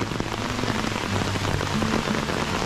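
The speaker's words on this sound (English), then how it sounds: "Getting a pretty good rain right now." Steady rain falls outdoors on a site where a drainage ditch has been dug with a Kubota B2650 tractor, a dense, even hiss of drops on the ground and water lasting throughout with no voices.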